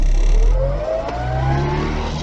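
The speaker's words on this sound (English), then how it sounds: "when I start to accelerate now" A manual car fitted with hand controls accelerates in second gear going slightly downhill, the engine note climbing steadily as it revs up, loud and close from inside the cabin.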